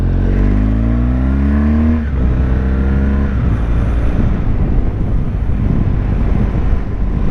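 A touring motorcycle riding along a road in Spain near El Escorial drones loudly with a rising engine pitch that eases off, buried under heavy rumbling wind buffeting the microphone.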